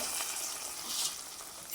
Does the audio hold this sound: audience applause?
no